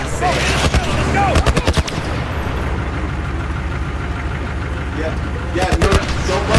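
Rapid automatic gunfire bursts in The Last of Us video game, loud near bursts at the start and again near the end with a rumbling lull between.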